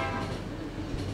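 A train runs in the video game The Final Station, a steady dense rumble with a low drone and faint clatter throughout, no talk.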